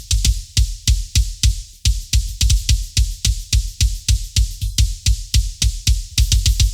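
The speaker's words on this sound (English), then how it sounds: "together all the kicks sound like this" Layered kick drum tracks, including a black kick and its ambient microphone, thump together in a steady, fast, punchy pattern, each hit loud and close with a short decay, repeating evenly with no other instruments.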